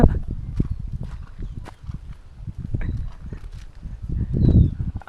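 A mare's hooves clip-clop in a steady, close rhythm as she is ridden, with a brief whinny-like rise near the end and occasional voices nearby.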